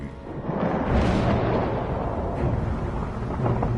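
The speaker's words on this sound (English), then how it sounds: "The storm is coming." A thunderstorm rolls over a desert in the Elder Scrolls Online game, a deep, heavy rumble that swells early and then keeps growling loudly for several seconds.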